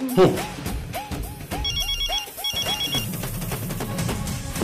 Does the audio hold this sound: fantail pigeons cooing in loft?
no